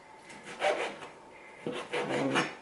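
A knife slices through a vegetable cut lengthwise like a celery stalk on a cutting board for clam chowder, making a few close, crisp rasping cuts in two short bursts.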